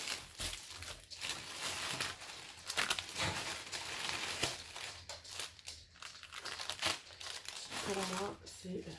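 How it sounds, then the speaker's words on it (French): Crinkly paper wrapping torn open and rustled while unboxing a diamond painting kit, steady close crackling throughout with a voice talking over it. "si j'arrive à ouvrir le papier"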